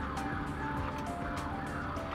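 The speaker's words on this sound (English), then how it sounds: "siren's going off" A trailer alarm siren set off by applying the trailer brakes, a wavering electronic wail heard faintly from inside a truck cab over low engine rumble.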